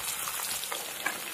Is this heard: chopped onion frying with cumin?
yes